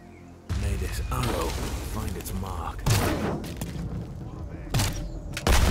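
Several heavy booming blasts from explosions in an Epic Games video game go off across a busy, noisy soundscape of rumbles and crashes, with voices mixed underneath.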